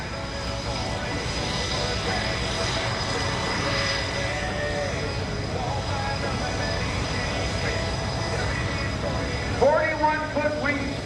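Propeller-driven F4U Corsair engine at a naval air station airshow, a loud steady drone that fills the whole stretch and rises in pitch near the end, with a public-address voice talking over it.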